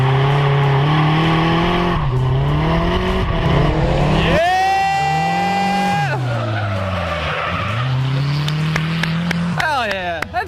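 Drift car sliding through a garage-built drift session with a loud, sustained tire squeal and rising engine whine sweeping past, fading into a second screech near the end, while an excited voice shouts over it.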